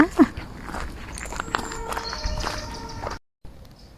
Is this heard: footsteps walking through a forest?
yes